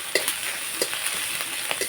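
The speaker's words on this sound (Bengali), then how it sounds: "এখন আমি আরেকটু ভাজবো" Onion, chilli, garlic and ginger paste frying for mutton, a steady close sizzle broken by a few soft stirring scrapes, with no talking.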